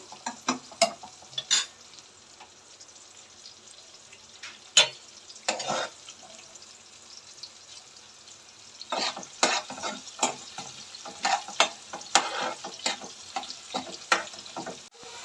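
Food frying in a pan as it is stirred until it browns, a low continuous sizzle punctuated by irregular scraping strokes of a spoon against the pan, fairly close and without speech.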